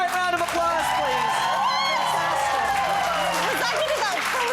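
A studio audience bursts into applause and cheering with whoops, a loud continuous crowd roar lasting the whole moment.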